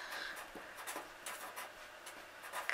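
Pen scratching across paper with a string of short, quick strokes and dabs, close and clear, no talking, while a kindness poem is written out neatly for an arts and crafts activity.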